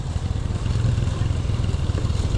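A Yamaha NMAX scooter engine labors on a mountain road, giving a steady, close, low pulsing drone with a rough clattering edge throughout.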